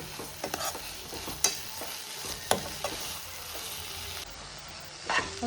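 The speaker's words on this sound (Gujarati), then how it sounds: "ખાંડ નાખો અને ખાંડ નાખીને ચલાવો" A spoon stirs sugar into a beetroot ladoo mixture roasting in a pan over low heat, with soft scraping strokes, occasional sharper knocks against the pan and a gentle sizzle underneath, close and fairly quiet.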